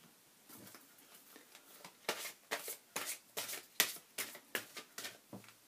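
Cards shuffled and drawn from a Tony Carmine Salerno oracle deck, a quiet run of soft papery riffles building into about a dozen crisp, evenly spaced flicks, close and alone with no talking.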